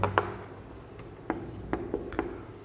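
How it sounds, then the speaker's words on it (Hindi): Chalk or marker scratching on a board as a teacher writes out answer options, a few short sharp strokes and taps spaced irregularly, fairly close and alone with no talk. "ऑप्शन पहले लिखता हूं"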